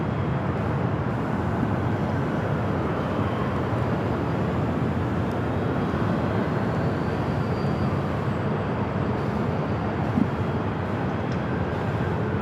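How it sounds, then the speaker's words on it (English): A KLM Boeing 777-200ER taxis at LAX, its big jet engines producing a loud, constant low rumble and hiss that stays level throughout, with only a brief faint tick near the end. "That is KLM at the 777-200ER heading back to Amsterdam."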